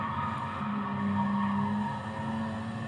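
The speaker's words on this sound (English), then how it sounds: "Oh dear, tyres are losing it now." Race car engine holds a steady drone while the tyres begin to squeal and slide for grip, a sustained, loud tonal whine running for the full few seconds with no voices.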